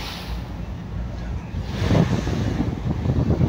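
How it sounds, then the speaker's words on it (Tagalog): Sea waves strike a ship in rough water with heavy wind noise buffeting the microphone, the surge building into louder crashing low rumbles partway through. "Minsan umahabot sa second floor yung tubig pag humampas yung alon."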